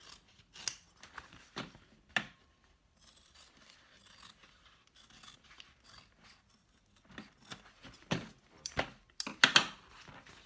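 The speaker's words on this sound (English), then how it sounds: "I'm only going to trim down the exterior a teeny tiny bit" Scissors snip and crunch through the fabric of a sewn crossbody bag in quick, close bursts of cuts with short pauses between, trimming down excess material.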